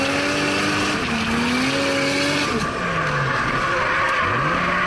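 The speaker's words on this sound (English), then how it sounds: "So you put me out in the middle of a salt flat in a 500 horsepower ute and just had to give it a crack." A 500 horsepower ute driving fast across an open salt flat, its engine roaring loud and close, with rising and falling revs and some tire noise throughout.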